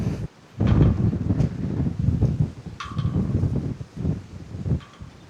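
Gusty wind on a fishing pier buffets the microphone in rough, uneven bursts, with a faint high chirp or creak cutting through now and then.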